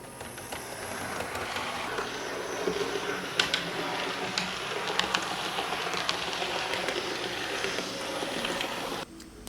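A small model railway locomotive runs steadily around its track, a continuous close whirring and clattering rumble with light rhythmic clicks, stopping abruptly at the end.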